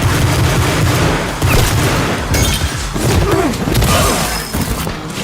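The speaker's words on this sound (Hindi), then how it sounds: "जिस सीन में कट लगना था वहां पर नॉन स्टॉप फायरिंग वाले सीन चले जा रहे हैं" Sustained barrage of gunfire and explosions from an action movie scene, dense and loud throughout with booms and crashing impacts layered under a constant roar.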